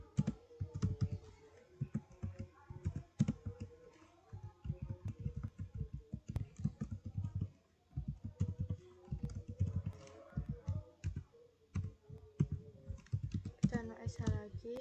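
Keys clatter steadily on a computer keyboard while a Cisco router is being configured for EIGRP routing. The taps come in quick, close, uneven bursts with brief pauses between them, and soft speech murmurs occasionally underneath.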